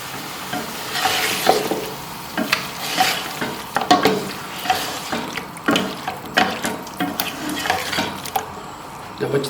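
Beaten yogurt is stir-fried in a pot for chicken biryani, with loud bubbling sizzle and repeated scraping strokes of a spoon against the pan. The sound is close and irregular, with no talking.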